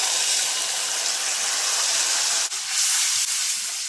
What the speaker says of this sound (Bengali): পেঁয়াজ লবণটা দিয়ে লাল লাল করে পেঁয়াজটা ভেজে নেবো।